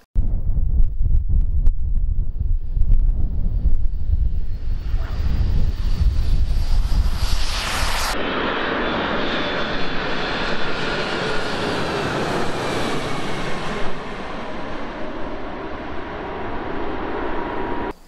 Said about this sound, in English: Check out this plane, military plane, coming in hot.